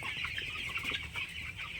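Chickens cluck constantly in a crowded poultry shed of about 2,700 birds, a dense, busy chorus of overlapping calls close by.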